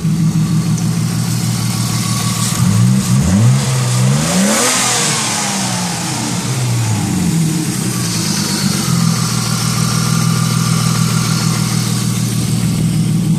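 A car engine runs with a loud, booming exhaust, revving up in a couple of rising and falling sweeps before settling back to a steady, throaty idle, close and prominent throughout without any talk.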